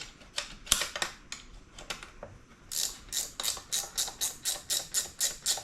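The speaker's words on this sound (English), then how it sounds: "We got a ratchet wrench under there." A ratchet wrench clicks under a car, likely a Dodge SRT4, in quick bursts of clicks, then in a steady run of about a dozen evenly spaced strokes, close and fairly quiet.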